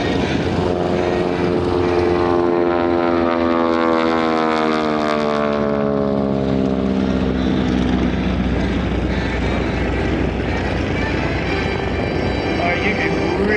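An AT-6 SNJ propeller airplane makes a photo pass at an airshow, its loud engine and propeller drone sweeping past with a falling pitch, mixed with crowd and announcer ambience.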